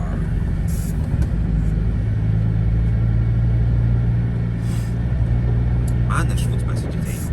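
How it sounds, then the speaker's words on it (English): Cars pass on a busy rural road near Bonawe and Connel, with a low rumbling hum from the vehicle interior under a steady engine drone and brief whooshes of passing traffic, while someone talks over it. "Man, this road's busy today, holy crap. So many cars coming down here."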